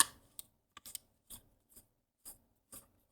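Lightsaber handle twisted onto the hilt, heard as a series of short, crisp scraping clicks spaced apart, close and quiet with near silence between them.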